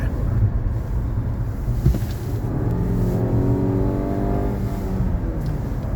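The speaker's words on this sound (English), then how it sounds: "that's just simply tramping the throttle from a standing start" A new-model Mazda CX-5 accelerates hard from a standing start, its engine note rising steadily in a loud, continuous drone with climbing harmonics, recorded close up with no talking.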